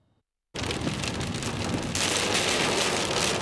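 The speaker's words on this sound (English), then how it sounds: "I'm in the middle of one of those seasonal thunderstorms we get in the goldfields in the Pilbara" Heavy rain from a seasonal thunderstorm in the Pilbara goldfields bursts in suddenly after a brief hush, a dense close roar that swells louder partway through, with no voices.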